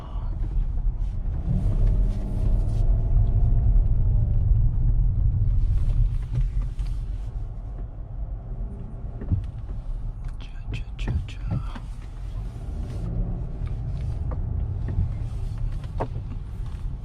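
A 2017 Kia K7 3.3 gasoline sedan climbs a parking garage ramp, with a steady low engine rumble and road noise inside the cabin and someone speaking quietly over it.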